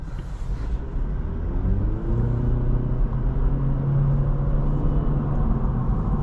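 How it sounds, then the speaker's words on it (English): A 2026 Acura Integra A-Spec with 200 horsepower accelerates, its engine note rising as a steady rumble heard from inside the cabin, continuous and moderately loud without talk. "For having 200 horsepower, the acceleration is not bad at all."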